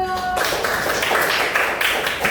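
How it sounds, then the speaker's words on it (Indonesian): Classroom audience clapping hands in unison, a steady loud patter of many hands recorded up close, continuing without pause. "Tepuk tangan dulu"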